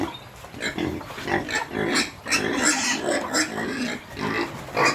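Pigs grunting and squealing in a busy, continuous chorus, close by, with several animals overlapping throughout.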